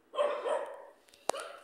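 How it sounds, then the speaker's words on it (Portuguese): A neighbour's dogs on a residential street bark a few times nearby in short yapping bursts, with one sharp loud bark near the end, outdoors. "Ali, os cachorros do vizinho."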